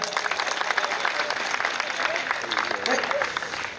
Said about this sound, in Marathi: पुन्हा एकदा साहेबासाठी जोरदार टाळ्या होत्या